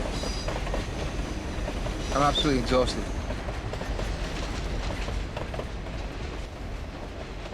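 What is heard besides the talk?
trains passing on railway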